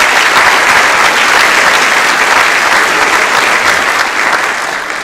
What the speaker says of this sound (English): Can we give a round of applause to Mrs.